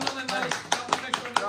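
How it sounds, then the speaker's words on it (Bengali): Scattered claps from a small gathering cheering the winner of an iPhone lottery draw, a handful of sharp separate hand claps rising over ongoing talk nearby. "তালি দাও তালি"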